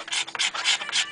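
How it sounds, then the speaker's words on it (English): Metalworking file rasping across a wooden guitar neck being reshaped, four or five quick scraping strokes in a steady back-and-forth rhythm, close and alone. "this is a metal working file, really."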